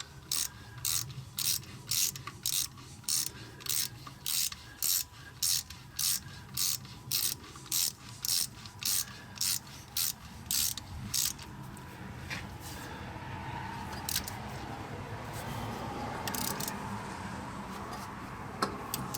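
A ratchet tightens a plug into the engine of a 1980 Ford F-350 service truck, clicking in a quick, even series of sharp pawl ticks close by. Then the ticking stops and softer mechanical handling and rustle follow.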